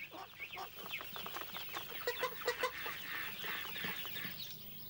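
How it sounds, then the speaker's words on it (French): Farm hens clucking as they chase ducklings away from food, a run of close, busy, overlapping clucks and squawks that peak in the middle and continue to the end. "mesdames les poules, fortes de leur taille, ne se gênaient pas pour les chasser et prendre leur place"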